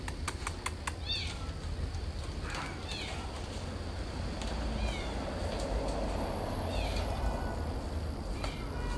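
Kittens meow in a cat garden, several short, high plaintive cries spaced across the clip, moderately near, over a faint outdoor background hiss.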